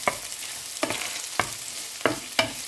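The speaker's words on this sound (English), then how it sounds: "We put it on the one side of the pan and we saute the garlic and onion." Garlic and onion sauté in a pan beside lightly toasted minced pork, giving a low steady sizzle broken by several sharp scraping stirs at regular intervals, close and moderately loud.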